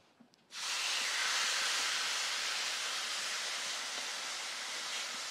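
Skirt steak hitting a hot Blackstone griddle with no added oil: after a brief quiet moment a loud, steady hiss of searing erupts and holds evenly, close and continuous, with no voices.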